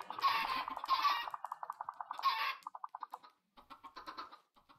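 Several Minecraft chickens cluck and squawk in quick, rhythmic bursts, with clipped, game-like sounds tapering into softer scattered clucks.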